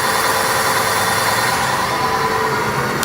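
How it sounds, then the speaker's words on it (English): Kraken 12000W electric fat bike rear wheel spun in the air by its twist throttle, giving a steady, loud, continuous motor whine and hum that holds even for the whole stretch, with no talk. "So I'm going to do a twist throttle for the rear."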